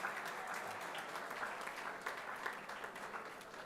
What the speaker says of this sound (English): you should give a big round of applause to the GCGC team